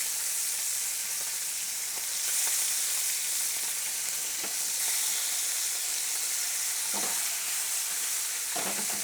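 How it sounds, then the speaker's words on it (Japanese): Okonomiyaki fries on its underside in a hot pan with oil, giving a steady, loud sizzling hiss throughout and a few soft scrapes and taps. "裏側の面はもうさっと焼くだけにしておきます。"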